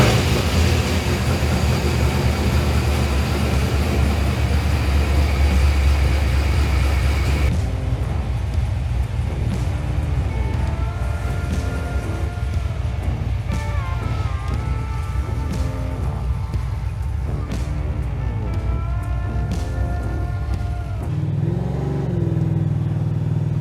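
A Holden HJ with a 4L60E automatic transmission drives along, its engine drone shifting after a gear change partway through, then rising and falling as the revs climb again. The sound is loud, steady and close, with no talking.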